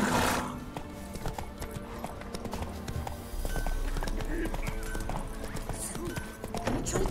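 Roach the horse in The Witcher 3 video game, with rhythmic clip-clop hoofbeats on the ground, a whinny, and game sounds, while a voice talks over it.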